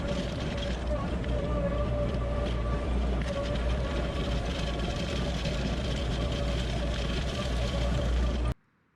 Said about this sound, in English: I'm going to just dethatch this lawn quickly first